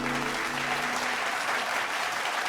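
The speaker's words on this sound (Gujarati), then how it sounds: "આપણે તેમનું જોરદાર તાળીઓથી સ્વાગત કરીએ." A school audience at an annual function applauds to welcome young children onto the stage. The clapping is dense and continuous and fills the hall evenly at a moderate level, with no speech over it.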